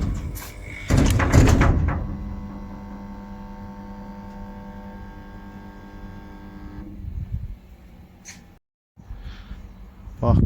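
BFT automatic gate motor runs with a steady electric hum as the gate moves, opening with clanks and a knock, then stopping with a brief silence before more clatter.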